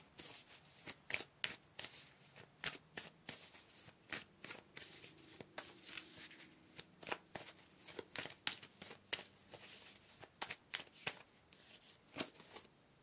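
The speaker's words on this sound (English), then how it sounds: "Let's pull another card" Tarot cards are shuffled and drawn, a long run of crisp, quiet riffling slaps and flicks in irregular bursts, close to the ear with no talking.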